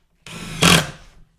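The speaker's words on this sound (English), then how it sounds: "To do this, you will need either a cordless or a corded drill." Cordless or corded drill driving screws into a minivan camper conversion kitchen kit, a single close whirring run of about a second that strains louder midway before stopping; no talking.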